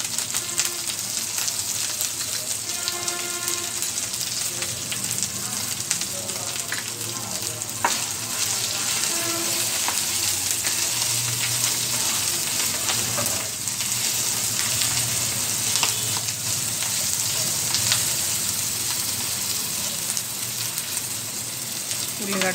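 Onions and peanuts frying in a pan for spicy masala macaroni, a loud continuous sizzle with crackling pops and occasional stirring throughout.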